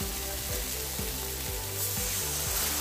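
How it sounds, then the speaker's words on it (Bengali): Ginger-garlic paste, cumin powder, meat masala and chili powder fry in oil in a pan, giving a steady close sizzle that hisses on without a break beneath rhythmic background music. "অল্প একটু জল দিয়ে মশলাগুলো ভালো করে কষিয়ে নিতে হবে"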